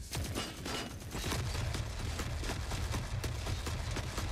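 Sustained automatic gunfire from the video game Forever Winter, a dense continuous fusillade of rapid shots that stays loud and steady throughout with no talk.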